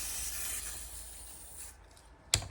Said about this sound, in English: Just use lots of WD-40 to clean the bearings,